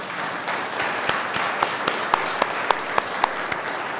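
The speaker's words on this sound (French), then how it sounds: "On peut aussi le dire en applaudissant." A church congregation at a Sunday worship service applauds as a gesture of thanks, a steady, moderately loud patter of many hands with a few sharper individual claps standing out near the end.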